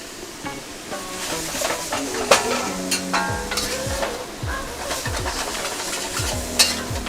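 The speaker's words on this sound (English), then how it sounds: "Those are noodles going back in." Cooked noodles for zha jiang mian tossed back into a hot wok, bringing a steady close sizzle and frying hiss broken by scrapes and metallic clanks of the utensil against the pan.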